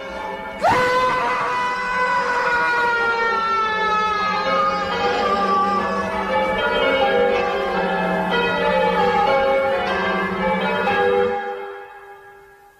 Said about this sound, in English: I never thought I should feel relieved at having the bells silenced, but they really are extremely loud